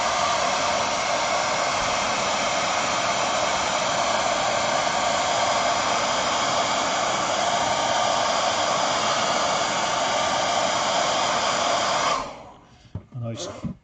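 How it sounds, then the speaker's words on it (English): A hair dryer blows steadily and loudly while wargaming model scenery and grass tufts dry, a continuous broadband whoosh lasting about twelve seconds before it cuts off abruptly and leaves a few faint clicks and handling noises. "it's a wonderful experience listening to the hairdryer going off."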